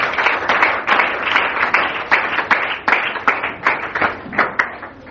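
A church congregation clapping together in acclaim, steady rhythmic group claps at roughly two per second, loud and close, with a faint murmur of voices beneath.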